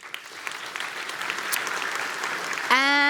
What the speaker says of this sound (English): So a huge round of applause for the panel